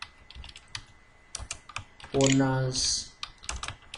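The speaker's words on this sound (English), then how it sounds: "so here I'm typing Bachelor of Science" Keys clatter on a computer keyboard while text is typed into a Microsoft Word 2016 document, a steady run of quick close clicks, with a spoken voice briefly breaking in mid-clip.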